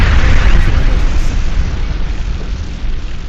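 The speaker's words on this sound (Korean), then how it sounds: "그 큰 성 여리고성이 우르르 쾅쾅!" A loud, heavy booming rumble, like massive walls crashing down, fills the moment and slowly fades, depicting the walls of Jericho collapsing.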